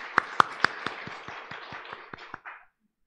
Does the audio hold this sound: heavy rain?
no